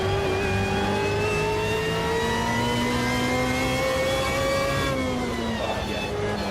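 A BMW race car engine revs loudly and steadily in the Automobilista 2 sim racing game. The pitch rises and falls through the gears, close and continuous with no break.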